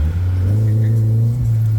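A Honda Civic hatch with a swapped F20B long-block engine revs close and loud, a deep steady rumbling drone with a slight rise and dip, and no talk over it.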